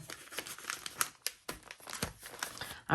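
Paper sticker folder being crinkled and handled, a series of short crackling rustles and crumples close by, with no talking.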